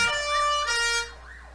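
A volunteer fire brigade truck's siren in a 7 September street parade in Pomerode, a loud wailing tone that sweeps up and down three times, close by, fading at the end.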